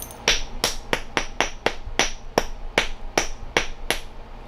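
Obsidian being flintknapped with a hammer stone into a Clovis point: about a dozen sharp, clicky percussive strikes in quick irregular succession, close and fairly loud, with no talking.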